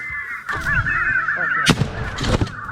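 Crows flying during a crow hunt near the northern border give loud, harsh caws in several overlapping bursts, close by over a steady outdoor background.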